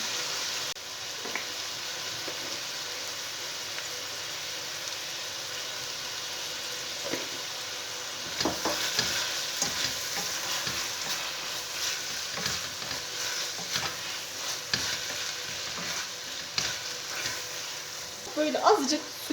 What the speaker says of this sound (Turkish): işte kavuruyorum